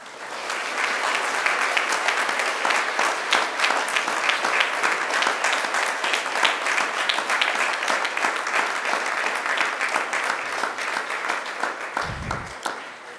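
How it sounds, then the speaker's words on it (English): University graduates at a graduation ceremony applaud their seated family and friends: a broad, steady wash of hall-filling clapping that carries on evenly for about twelve seconds before breaking off. "turn and face your family and friends and give them a hearty round of applause"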